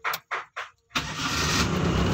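Three short, separate starter bursts from a Daihatsu S38 with a non-original ignition switch, then the engine catches and runs at a steady, close idle.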